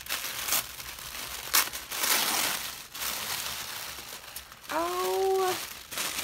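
Tissue paper crinkles and rustles as a unicorn-themed swap box is unwrapped, producing loud, close, bursty crackling across the whole stretch, with a brief voice cutting in near the end.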